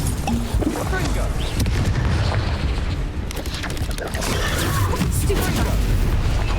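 Confringo spell cast in Hogwarts Legacy, played on hard difficulty during spider fights: loud, dense game combat with booming explosive bursts and crashes, with a player's voice talking over it.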